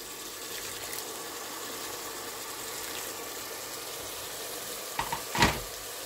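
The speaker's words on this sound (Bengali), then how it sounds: "মশলাটা বাজাও হইতো লো হিটে বাজাও" Spice masala for a fish curry sizzles and fries steadily in a pan over low heat, a constant close hiss with a couple of brief clattering stirs near the end.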